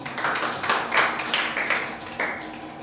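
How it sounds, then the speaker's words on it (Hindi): Scattered hand clapping from a church congregation, a loose run of uneven claps at moderate volume filling the short stretch without speech. "ताली बजाओ जी।"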